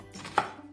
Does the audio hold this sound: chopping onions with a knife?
yes